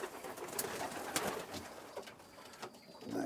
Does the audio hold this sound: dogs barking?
no